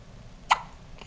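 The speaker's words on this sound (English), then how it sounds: "She's had the hiccups for like a couple minutes." A baby gives one sharp, close hiccup, followed about half a second later by a fainter second catch, in a quiet room with no talking.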